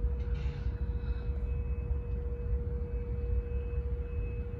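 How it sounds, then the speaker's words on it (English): A Canadian Pacific diesel locomotive passes, a steady low mechanical rumble with a constant droning hum, heard from a moderate distance with no talking. "There's also another Canadian Pacific locomotive,"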